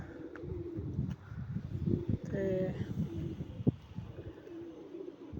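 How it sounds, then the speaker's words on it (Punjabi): Low cooing of desi pigeons rumbles steadily nearby while someone speaks briefly over them, with occasional chirps and light rustling. "ਇਹ ਪਿਓਰ ਦੇਸੀ ਕਬੂਤਰ"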